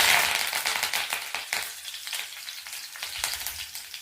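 Cumin seeds and curry leaves crackling in hot peanut oil, a burst of loud spattering sizzle at first that settles into a softer, uneven crackle with scattered pops, heard up close.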